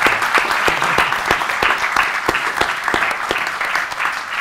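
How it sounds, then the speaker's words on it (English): A crowd applauds at a college tour event, with sustained dense clapping throughout and a few sharper individual claps standing out near the front. "massive round of applause"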